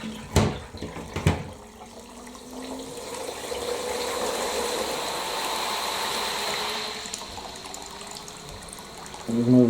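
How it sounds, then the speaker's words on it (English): Water steadily pours and trickles as a bucket overflows beneath a Zanussi SD 2811W spin dryer, a continuous close splashing wash after a couple of sharp knocks, ending in a louder clunk. "So the bucket overflows."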